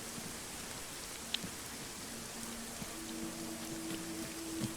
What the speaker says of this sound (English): which is why you hear that rain going.